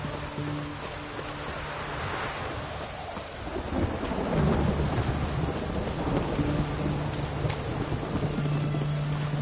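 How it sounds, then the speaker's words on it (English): Thunderstorm in The Witcher 3 video game, with steady heavy rain hissing on surfaces and deep thunder rumbling and swelling partway through, continuous and enveloping without any talk. "A storm, damn it."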